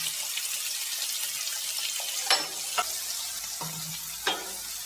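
Masala of onion, tomato, fennel, dried red chilli and ginger frying in a pan, a steady soft sizzle with a few sharp clinks of a spoon against the pan, close and unaccompanied by talk.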